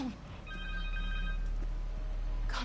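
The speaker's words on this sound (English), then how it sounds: "Connor's cell phone." A cell phone rings in the Spider-Man video game, a repeating electronic ring tone of several short pulses over a low background hum, fairly clear and without talk.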